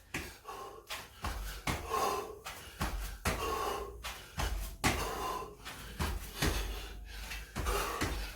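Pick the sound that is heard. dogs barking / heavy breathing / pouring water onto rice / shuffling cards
heavy breathing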